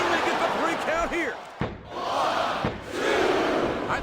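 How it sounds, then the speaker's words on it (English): A wrestling arena crowd in WWE SmackDown vs Raw 2007 roars and cheers loudly, with a couple of sharp slams cutting through, and commentary voices mixed in. "I think this crowd's giving these superstars a piece of their minds, King."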